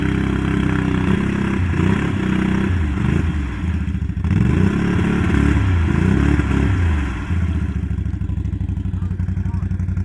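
A Can-Am Outlander 570 ATV stuck on a trail, its engine revving hard in repeated surges and clattering bursts, close and loud, easing into a steadier idle near the end.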